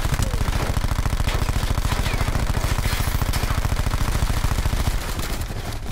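Rapid automatic gunfire from the video game Black Ops 4, a dense sustained burst of shots rattling continuously for about five seconds before easing off, loud and close.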